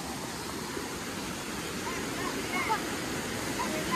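A river rushes steadily at a river crossing near Kalu waterfall in the Malshej Ghat valley, a broad, even roar of flowing water throughout.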